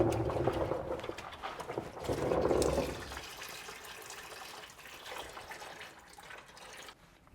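Dark engine oil drains from a BMW E61 530xd in a loud gushing, splashing pour that eases into a steadier trickle, close by, with no talking.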